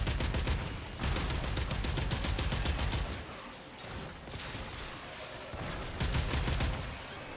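A fully automatic Boar shotgun in a video game fires rapid bursts of loud, tightly spaced blasts in three volleys, with brief pauses and mechanical clatter between them.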